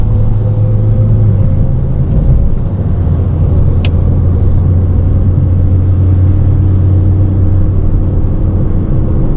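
A 2006 Porsche 987.1 Cayman with a Tiptronic automatic cruises at the speed limit, heard as a loud, steady cabin rumble with a continuous low drone throughout.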